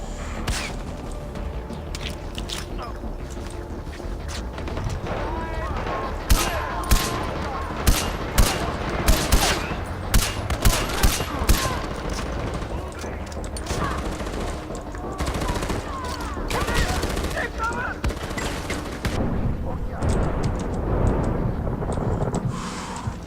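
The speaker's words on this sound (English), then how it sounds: "This is what Far Cry is all about, though. It's like intense firefights" Intense gunfire in a Far Cry 4 firefight, with dense bursts of rifle and machine-gun fire and sharp shots cracking over a constant rumble of battle, loud and close throughout.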